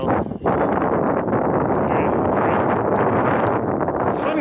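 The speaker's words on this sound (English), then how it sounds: "The wind doesn't come from this direction" Strong, steady blizzard wind on Denali roars and buffets the microphone at close range, a dense unbroken rush with one brief dip near the start and no voices.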